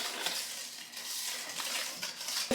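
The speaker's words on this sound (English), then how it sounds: "So anyway, we're gonna go ahead and drop the sugar in. And I'm gonna go ahead and mix it all together." Sugar being mixed into liquid in a bowl for a Thanksgiving recipe, a close, continuous scraping and clinking of the utensil against the bowl.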